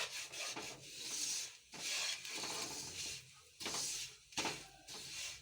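Poppy seed laddoo mixture being mixed by hand, giving bursts of dry rubbing and rasping scrapes in several strokes separated by short pauses, close and fairly quiet with no talk.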